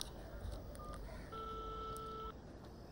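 A telephone number is dialed on a keypad, producing a run of clear touch-tone beeps, one long sustained tone in the middle, heard alone at moderate level.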